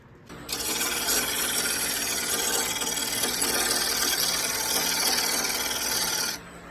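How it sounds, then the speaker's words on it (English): A long-necked wooden hollow form is rough-turned on a lathe, its outside worked by a cutting tool in one steady, loud, continuous rasping scrape lasting about six seconds, then stopping abruptly, with no voices. "I'll do a little bit of turning."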